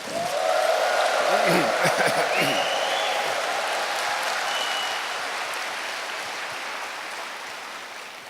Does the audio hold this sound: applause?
yes